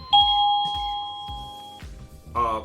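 An Energizer wireless plug-in doorbell chime rings a bright two-tone ding-dong, followed by soft thumps and another short chime near the end.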